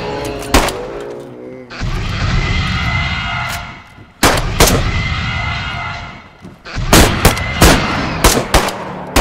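Shotgun fire in DayZ, several loud, sharp blasts in quick clusters near the start and end, with a steady droning background between them and voices now and then.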